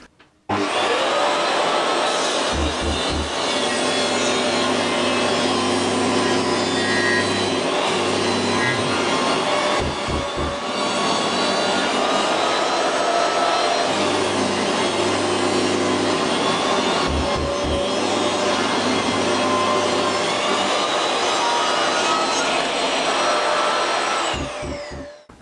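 A DeWALT DWE7491 table saw with its stock blade ripping through wood, a loud steady whine and roar running almost unbroken for the whole stretch, with faint low knocks from the wood being fed and no talk.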